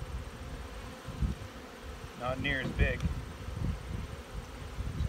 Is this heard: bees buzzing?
yes